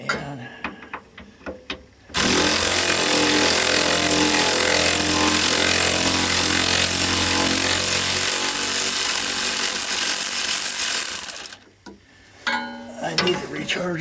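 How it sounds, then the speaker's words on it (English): A battery-powered impact wrench on a 1997 GMC Savana van during shock absorber replacement runs in one long, loud, close burst of nearly ten seconds, with softer handling noises before and after. "My wrench needs to be recharged."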